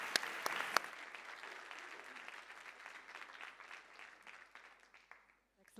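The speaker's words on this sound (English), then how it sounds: "Please join me in giving wonderful applause" Applause rises from the audience at an international partnerships conference, opening with a few crisp, close claps before the crowd's clapping thins and fades away toward silence.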